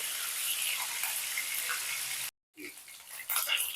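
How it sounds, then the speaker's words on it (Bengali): Gurjali fish frying in hot oil, a loud continuous sizzle that breaks off abruptly, then resumes with a crackle and rises again. "মাছগুলো দুদিকটা ভালো করে ভেজে নিয়েছি"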